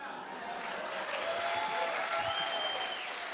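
An audience at a live astronomy talk applauds in a steady, sustained wash of clapping, fairly loud and even throughout.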